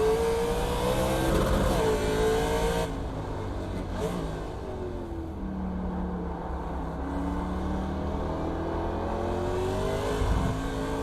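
A NASCAR Legends race car engine in iRacing at Sonoma, droning and revving up and down through gear changes, moderately loud and steady with no talking over it.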